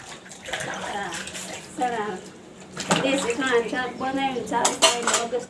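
Dishes and utensils being washed with water at home: steady running water with clattering metal pots under ongoing conversation.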